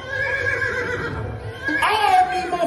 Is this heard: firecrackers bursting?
no